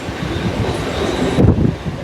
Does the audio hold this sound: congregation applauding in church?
no